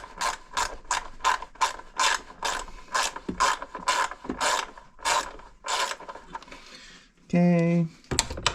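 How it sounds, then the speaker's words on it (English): A socket wrench ratchets out a motor's bolts in a series of steady rhythmic clicking bursts, close and fairly loud, before a short hum near the end. "for that I kind of like to use the socket wrench because it's just easier to get to."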